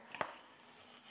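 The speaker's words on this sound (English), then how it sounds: "we're going to be adding some cilantro as soon as I get this finished chopping" Knife chopping fresh cilantro on a cutting board in a home kitchen, a couple of quick close cuts near the start, then quiet room tone.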